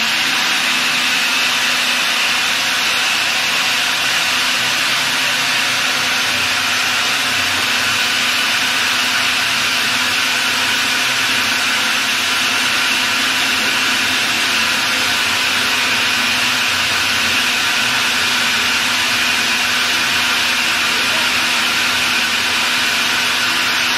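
A blender whirs steadily at high speed, puréeing beetroot and sweet potato soup, a constant loud motor hum with hissing blades for the full stretch, no talking.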